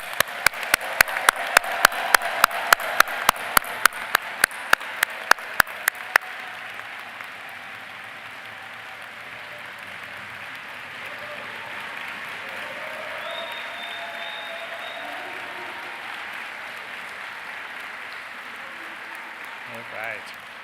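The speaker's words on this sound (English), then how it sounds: "let's have one more round of applause for all these new doctors" A round of applause for new doctors at a medical school commencement, with loud sharp claps close by at the start over sustained crowd clapping, fading into a long, softer wash of applause.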